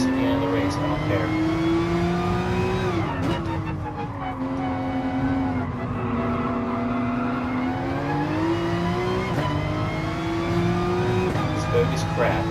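Race cars roar around the track in GT Sport, the engine note loud and close with steady revving that rises and dips as the driver shifts and brakes through corners.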